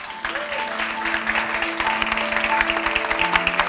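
Steady, sustained applause from a film festival audience at the TCM Zinemaldia encounters in 2018, dense clapping filling the whole stretch at fairly close range with a faint tonal hum underneath.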